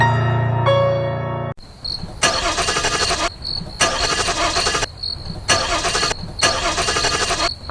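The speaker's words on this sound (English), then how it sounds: "The motor won't turn over." A car engine cranks repeatedly without catching, four long grinding bursts separated by short pauses, loud and close, following a brief musical tone at the start.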